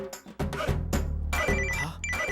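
A telephone rings in a short repeating electronic pattern over a loudspeaker call, the tone bursts clear and moderately loud with no speech.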